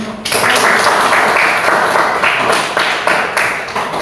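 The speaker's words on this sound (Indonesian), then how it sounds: "beri tepuk tangan" A burst of applause from a classroom group, dense clapping that starts abruptly and continues steadily for several seconds.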